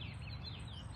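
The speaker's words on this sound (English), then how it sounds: "You could hear the birds singing actually." Faint morning birdsong chirps in the distance over a low background hum, quiet and brief.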